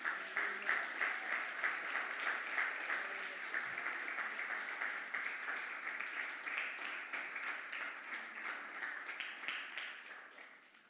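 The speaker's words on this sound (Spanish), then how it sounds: "Dale un aplauso a Cristo, hermano." A church congregation applauding during a Good Friday service on Jesus' seven last words, a dense sustained wash of clapping that rises in waves and fades toward the end.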